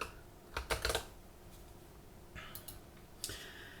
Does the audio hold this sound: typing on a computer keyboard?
yes